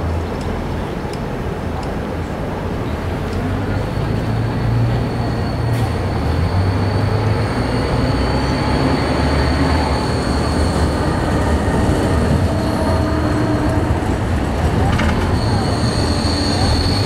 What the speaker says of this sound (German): Vom 1. bis 18. August 2022 testet Mainzer Mobilität eine Straßenbahn aus der Partnerstadt Erfurt im